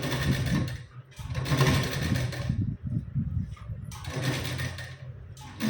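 Sewing machine stitching a sleeve onto a lined lehenga blouse with a half-inch seam margin, running in close, steady bursts of whirring with brief pauses between runs and no talk.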